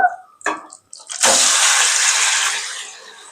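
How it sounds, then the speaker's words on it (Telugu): Marinated chicken drops into hot oil after a few soft clatters, then a loud, close burst of hissing sizzle rises and holds before easing slightly toward the end, with no talk. "ఆయిల్ వేడెక్కిందండి, కలిపిన చికెన్ వేస్తున్నాను దీంట్లో"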